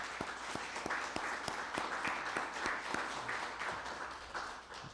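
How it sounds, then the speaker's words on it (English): An audience applauds a $10 million PNC Foundation gift to Birmingham Promise, a moderately loud, steady wash of clapping with individual sharp claps standing out, fading slightly at the end. "And I think that's worth a round of applause."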